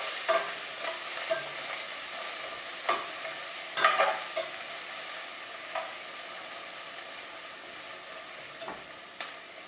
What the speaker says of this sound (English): Saute the onions till they're translucent and tender